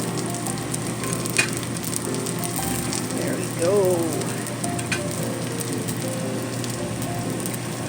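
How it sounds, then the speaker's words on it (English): A veggie burger sizzles steadily in a frying pan, a close, continuous crackling hiss with a brief scrape partway through and a short spoken remark. "Got my next round on the go, as you can see, sizzling away, and this is what I pulled up off out of the frying pan."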